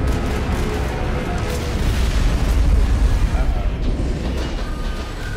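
Heavy booms and explosions from a Mass Effect battle against Geth artillery units rumble continuously with dense low-end blasts, loud and close, with no talk.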